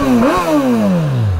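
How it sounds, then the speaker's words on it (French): Suzuki Katana 2021 motorcycle engine with stock exhaust, revved loudly up close: two quick blips rise, then the pitch falls away steadily as the revs drop back toward idle. "Je trouve que le bruit est déjà très très bien."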